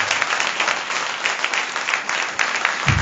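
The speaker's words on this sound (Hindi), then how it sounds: "जोरदार ताली प्रभु यीशु मसीह के लिए" Loud applause fills a church congregation's Thanksgiving Sunday service in honor of Jesus Christ, a dense, steady wash of clapping hands lasting the full three seconds with no speech over it.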